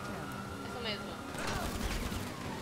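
Rapid bursts of gunfire from a police chase in GTA V Online, a dense crackling volley running steadily throughout under in-game engine and street noise, with a voice talking over it.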